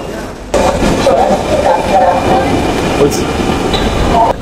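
A metro train rushes in abruptly with a loud, steady rumble and rattling on the tracks that holds for several seconds.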